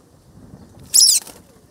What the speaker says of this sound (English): birds of the air converge here, not to interact with books, but these drops of water from the tank to quench their thirst